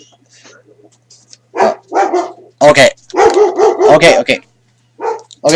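A dog barks several times in quick bursts, loud and close, mixed with a man's speech.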